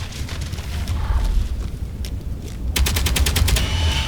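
A gun turret firing in the Space Engineers survival game, a steady run of rapid automatic shots rattling throughout, with a sharper, brighter burst of rhythmic shots in the final second and a half.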